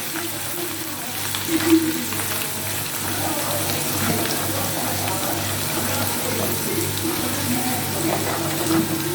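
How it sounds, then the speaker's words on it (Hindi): Garlic ginger paste frying in a pan for bhindi fry, giving a steady, even sizzle that holds throughout with a faint low hum beneath it. "अब इसके अंदर डालेंगे हम लहसुन अदरक का पेस्ट। इसको हल्का सा गोल्डन ब्राउन कर लेंगे।"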